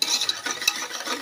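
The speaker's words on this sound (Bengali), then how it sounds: "এখন দইটাকে আমি ভালো করে ফুটাবো।" Plain curd is whisked with salt in a bowl for Bengali dahi bada, a brief run of soft, quick scraping strokes, close and moderately loud, with no voices.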